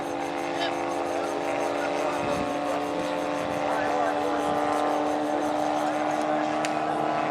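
A half-scale radio-controlled Newport model aircraft circles at a large-model display day at Elvington, York, its engine a steady, moderately loud drone that holds across the whole stretch against outdoor background noise.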